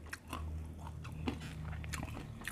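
Crunchy herbal crispy fish is bitten and chewed up close, with repeated crisp crunches over a faint low hum.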